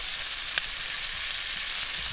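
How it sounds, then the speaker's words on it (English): Bacon frying in a pan crackles and sizzles steadily at close range, a dense hiss with occasional sharper pops and no talking. "fry up this bacon"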